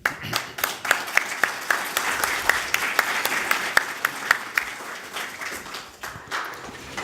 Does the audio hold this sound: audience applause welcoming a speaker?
yes